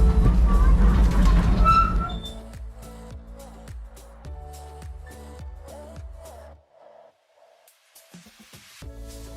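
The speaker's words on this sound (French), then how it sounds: "Nous commençons les visites en empruntant le tram historique de Rio" A historic tram in Rio de Janeiro clatters along, its rhythmic wheel clicks and rattles sounding near, with voices and background noise loud at first before the tram sounds go on alone, fading briefly near the end.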